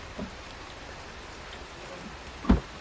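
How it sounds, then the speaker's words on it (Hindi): Heavy rain falls in a steady, even hiss with no voices, and a single sharp thud of a drop or splash lands near the end. "आज बारिश कुछ ज़्यादा है।"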